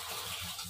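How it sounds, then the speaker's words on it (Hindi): Dirty water gushing from a newly installed pipe at a home in Bhopal, a continuous rushing flow heard alone and fairly steady throughout the short moment. "देखो कितना गंदा पानी निकल"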